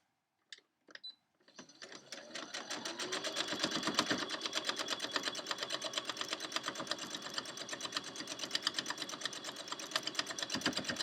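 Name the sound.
sewing machine stitching quilt along seams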